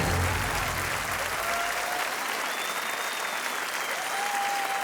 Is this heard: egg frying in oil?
no